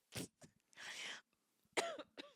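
Several harsh coughs in short bursts, close by, with a throat-clearing rasp and a brief voiced sound between them.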